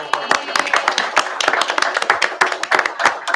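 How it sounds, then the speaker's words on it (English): A group claps at a Board of Elections meeting, giving a short burst of quick, uneven, close handclaps from several people that continues steadily throughout. "We're clapping because we love you."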